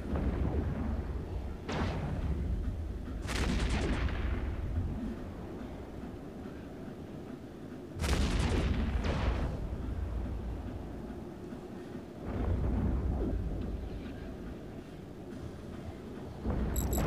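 Ship weapons fire in a low-security PvP fleet roam in the space game EVE Echoes, with heavy booming bursts that come in irregular clusters over a constant deep rumble.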